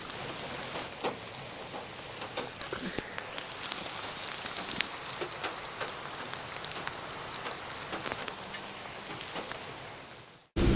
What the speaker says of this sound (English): the rain's really picking up